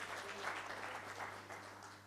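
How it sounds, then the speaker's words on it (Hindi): An audience at a Hindi poetry gathering applauds a poet, a steady wash of many hands clapping heard from some distance over a low constant hum. "एक बार जोरदार तालियां राजेश चेतन जी के लिए"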